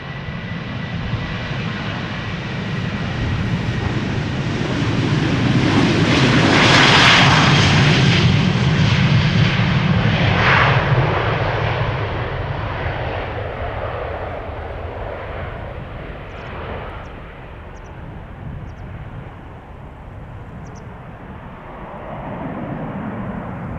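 A Transavia Boeing 737-700 jet departs Amsterdam Schiphol for Porto, its engine roar swelling loud and close as it passes, then fading into a distant rumble.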